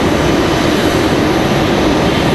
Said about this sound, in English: We've got an American Airlines headed out to the runway now.